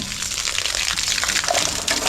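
Water gushes steadily and loudly into drums while fetching water, a close, continuous rushing splash with no pause for about two seconds.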